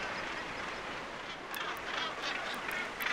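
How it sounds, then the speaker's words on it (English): Gannets call at a crowded seabird cliff colony, a dense, continuous wash of harsh honking and croaking voices with a few sharper calls rising above it, heard at moderate distance with no talking. "Gannets are notoriously aggressive, using their dagger-like beaks to great effect."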